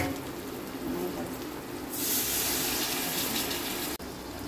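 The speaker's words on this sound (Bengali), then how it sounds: "এবারে আমরা এর মধ্যে অল্প একটু জল দিয়ে দেব।" A little water splashes into a hot pan of frying onions and prawns for a Bengali prawn and potato curry, setting off a loud, bright hissing sizzle over the steady frying crackle, with someone talking.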